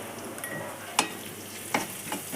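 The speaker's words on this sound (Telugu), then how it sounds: "వేగుతూ ఉన్న ఉల్లిపాయలలో మనం కొద్దిగా పసుపు వేసుకోవాలి" Onions fry in a pan with turmeric for a cabbage fry, giving a soft steady sizzle with a few sharp scrapes and clicks of a stirring spoon against the pan.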